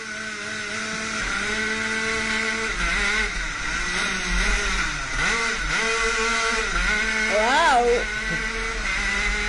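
Rotax Max karts race away from the start at a Rotax Max Challenge event, their high-pitched two-stroke engines revving and rising in pitch, with excited voices exclaiming over the loud engine noise.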